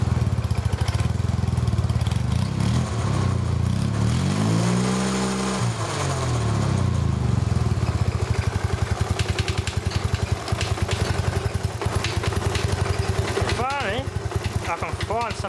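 A Honda motor drives an air compressor with a steady, loud, close engine drone, its pitch swelling and dipping briefly partway through.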